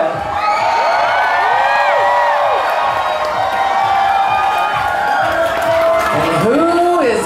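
A drag show audience cheers, whoops and shouts loudly and continuously throughout, with high screams rising and falling in a dense, close crowd roar.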